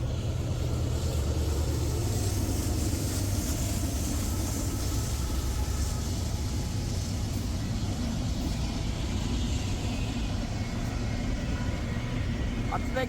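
A Norfolk Southern freight train rolls past the rail station in Amherst, Ohio, a steady low rumble of wheels and cars heard from a distance throughout, with faint talk in the background.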